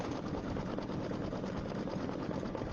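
A sewing machine runs fast and continuously, a dense, steady mechanical whirring hum held at even volume from start to finish, with no talk.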